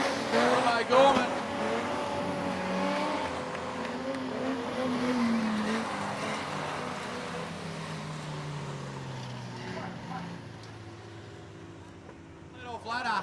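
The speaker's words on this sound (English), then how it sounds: "here comes Buchanan in the Falcon up the inside" Modified production race cars, including a Ford Falcon and a Toyota, roar around the Maryborough Speedway dirt track at a distance, engines droning and rising as they pass while a commentator talks over them.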